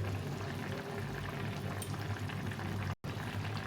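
Ridge gourd cooks with slit green chillies and a little mustard oil in a covered pan, giving a steady close bubbling simmer with soft crackle throughout and a brief dropout near the end.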